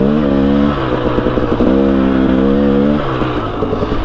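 Two-stroke engine revving on a lugging machine, a loud close buzzing drone with a rising and falling pitch and short rapid pulses between revs, without talk.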